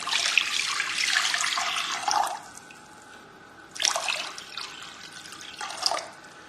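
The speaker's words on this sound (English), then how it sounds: "Pour some water in a heavy bottom pan." Water pours into a heavy-bottomed pan in a steady rushing stream, then stops, followed by two shorter splashing pours, close by and moderately loud.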